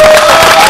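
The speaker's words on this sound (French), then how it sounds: "je crois qu'on peut l'applaudir" An audience at a singing contest in Casteljaloux applauds a contestant: a short, loud burst of dense clapping and crowd noise with a steady whistle-like tone running through it.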